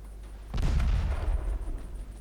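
A single heavy warship gun salvo in Ultimate Admiral Dreadnoughts, a sudden deep boom that rolls and rumbles for over a second during a stormy night battle.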